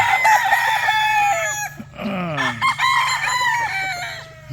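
A rooster crows loudly and close by, one long harmonic call with a second crow following, over a steady low hum and no talking.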